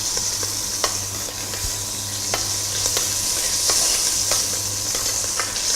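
Dry fish and onion paste fry in a pot for mealie rice kitchari, a close steady sizzle with regular spoon taps and scrapes against the pot, no speech.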